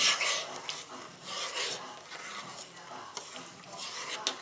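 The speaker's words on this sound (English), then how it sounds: "We'll give it a little stir" Rice grains with spices in water are stirred in a pot coming to the boil, a soft repeated scraping and gritty swishing in uneven strokes, close and fairly quiet with no talking.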